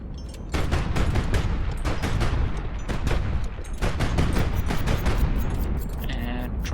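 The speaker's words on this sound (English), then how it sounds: "Missiles are expensive, but they are highly damaging." R5 Zenit missile launches and hits in the HighFleet video game, a loud steady roar of rapid explosive bursts and gunfire-like cracks across the whole span, with a brief dip in the middle.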